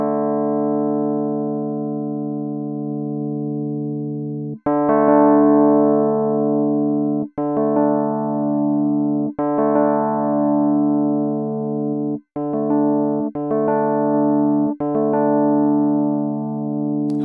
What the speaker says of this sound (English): and then play some keys through it